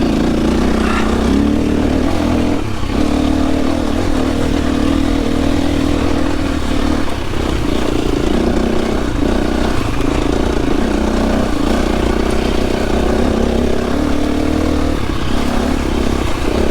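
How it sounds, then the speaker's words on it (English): KTM 350 four-stroke enduro motorcycle engine running hard off-road, a steady loud drone with a faint high whistle riding over it, continuous with no talk. "It's got kind of a whistle on this engine."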